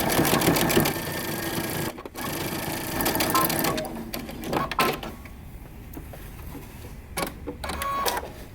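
A sewing machine top stitches the band of a moto jacket in rapid, buzzing bursts, with short pauses between runs and a final few brief stitches, close and clear with no talking.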